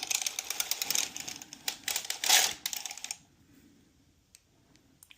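A knitting machine carriage is pushed all the way across the needle bed, a rapid clattering run of mechanical clicks for about three seconds, then near silence with a few stray clicks.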